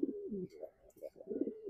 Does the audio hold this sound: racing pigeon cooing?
yes